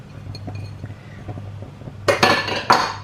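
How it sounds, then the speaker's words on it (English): Mushrooms tipped into a small pan for a moussaka lasagne and stirred through, starting with faint scraping before a loud burst of clattering metal and utensil clinks near the end. "So I'm just going to pop my mushrooms in"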